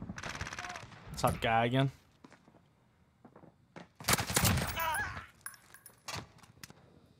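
Light machine gun (LMG) fire in a first-person shooter video game, heard as short bursts and single shots mixed with a speaking voice and other game sounds.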